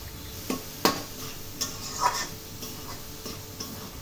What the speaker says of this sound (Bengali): এবার ভালো করে ডিম সহ চিচিঙ্গা নাড়াচাড়া করব 2-3 মিনিটের জন্য